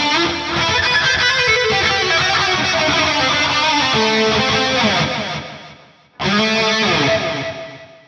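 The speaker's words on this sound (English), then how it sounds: "let's try and move these so you get the first chorus and then the reverb" Heavily distorted metal guitar runs through an amp simulator with chorus and reverb, playing a dense chugging riff that briefly cuts out and returns, loud with no talking.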